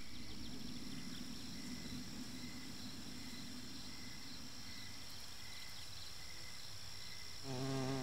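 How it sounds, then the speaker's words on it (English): Insect wings buzzing in flight, a faint steady drone held at an even level for several seconds, with a brief rising whir near the end. "It is precisely the fact that the wings have a synchronized beat that produces the insect's well-known buzz."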